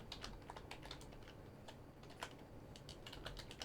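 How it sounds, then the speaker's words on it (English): Rapid computer keyboard typing during a Space Engineers game session, with dense irregular clicks close and clear that run steadily throughout, no talking. "How loud the typing is in the video, sorry."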